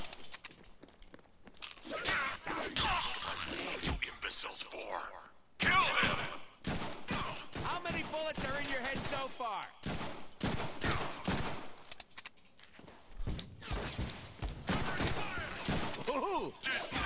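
Gunfire crackles through a Deadpool video game firefight in repeated dense bursts of shots and fusillades, with short quiet gaps between volleys and a player talking over parts of it.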